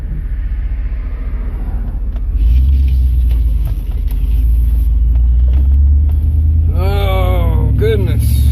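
A car driving through road traffic on a weekday afternoon, its engine rumble low and steady and growing louder partway through, while a person talks over it.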